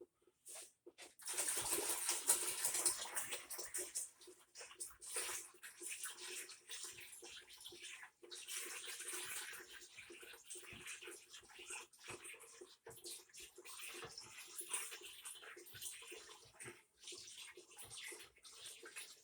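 Bottled water pours into a wine-making kit for Moscato, a continuous splashing rush that starts after a brief pause and runs on with small fluctuations, fairly faint.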